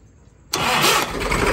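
A Massey Ferguson MF 240 tractor engine cranks and catches abruptly after a quiet pause, then settles into a loud, steady running rumble close by.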